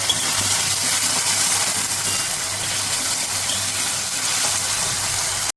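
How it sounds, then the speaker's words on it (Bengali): Potatoes fry in hot oil in a wok with curry leaves, chopped chilli and salt, giving a steady, loud broadband sizzle that runs unbroken throughout. "তেল গরম হয়ে গেছে, এবারে আমরা দিয়ে দেব কড়ার মধ্যে আলু। আলুটা ফ্রাই হবে।"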